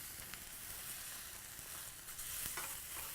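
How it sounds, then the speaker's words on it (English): Spicy black bean slider patties sizzle in a pan as they are flipped, a close, constant frying hiss with crackling spatters and a few sharper scraping clicks from the turning, no voices. "I'm going to need to turn those patties over. Get those patties."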